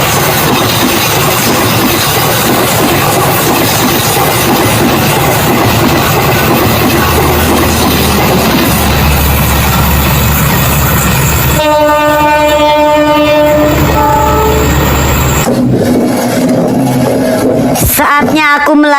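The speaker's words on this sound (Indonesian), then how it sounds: "Wah, ada kereta mau lewat." A train rumbles loudly past at close range with a steady rolling roar, then a long sustained horn blast and further horn notes near the end.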